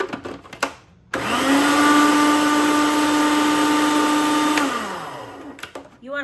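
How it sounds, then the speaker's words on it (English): Food processor whirring basil and olive oil into a paste, a steady loud motor drone holding for several seconds after a clattering start, then winding down, with brief handling noises before and after. "You wanna stop your food processor a couple of times and scrape down the sides so that it blends evenly."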